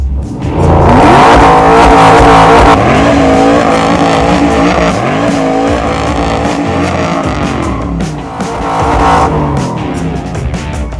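A 750 hp supercharged Chevy Blazer on a full custom chassis roars through donuts, its engine revving hard and sustained at close range with squealing, skidding tires, the pitch rising and falling as it spins, no voices heard.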